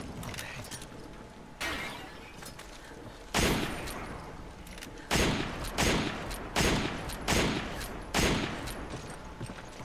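Gunfire in the video game Resident Evil 5, with a series of sharp, separate shots spaced a second or two apart over a low ambient background, moderately loud and without talk.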